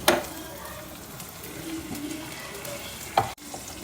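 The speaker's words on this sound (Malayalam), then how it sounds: "സവാള വരട്ടുക, അതിലേക്ക് ഒരു 3 പച്ചമുളക്" Onion and green chillies sauté in a pan for a Kerala liver curry, a soft steady sizzle with scraping stirs and a sharp clink of utensil against the pan near the end.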